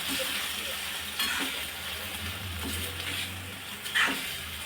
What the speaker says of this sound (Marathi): चांगला असं एकजीव करून घ्यायचा आहे हा पास्ता मसाला सर्व